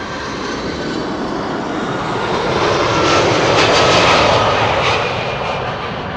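A jet airliner at Amsterdam Schiphol Airport roars loud and continuous on takeoff, the broad engine noise swelling toward the middle and then easing slightly.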